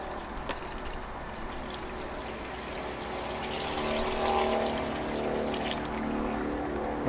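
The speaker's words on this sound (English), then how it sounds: "another pitcher of water" Water poured from a pitcher into a bird bath, a gentle splashing flow that swells louder partway through and continues steadily near the end, fairly quiet and close.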